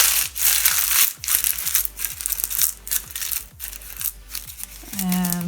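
Faux leather notebook material being crumpled by hand, a close run of crisp crinkling and crunching bursts that come in quick repeated squeezes, ending with a short pitched squeak.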